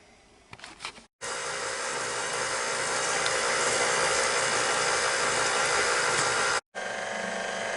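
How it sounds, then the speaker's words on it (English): A stand mixer fitted with a whisk attachment runs at speed for zucchini carrot bread batter, a steady, loud, close motor whir lasting several seconds, starting and stopping abruptly, with no talking. "here we're going to attach our whisk attachment and turn this on and let it go for about 5 minutes"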